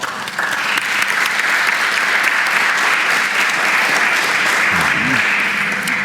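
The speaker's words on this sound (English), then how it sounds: "give our panelists another round of applause" Loud, sustained audience applause fills a conference hall for a panel, a dense, even wash of clapping lasting throughout, with a brief voice heard underneath.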